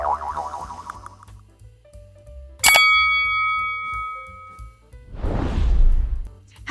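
A bright notification-bell ding rings out clearly amid other cartoonish effects, its tone hanging and slowly fading before a burst of whooshing noise.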